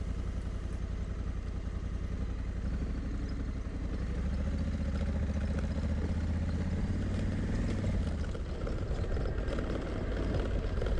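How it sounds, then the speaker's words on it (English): A motorcycle rolls slowly over a rough, rocky road while its adjustable windscreen rattles, a steady close clatter laid over the continuous low drone of the engine, with no one speaking. "My bike doesn't usually rattle on a rough road, but it really is rattling today. The adjustable windscreen is what you can hear."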